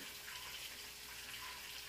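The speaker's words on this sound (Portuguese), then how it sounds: "Vou pôr a água." Water runs steadily from a tap into a cooking pot, a faint, continuous rushing that stays level throughout.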